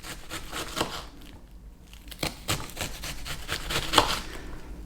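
A knife cuts down through an onion on a board in a home kitchen, making close, crisp slicing and crunching strikes at an irregular pace, heard alone without talk.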